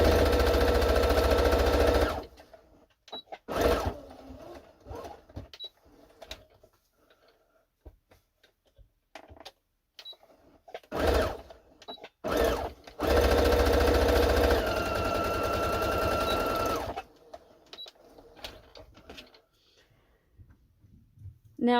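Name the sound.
sewing machine stitching fabric edge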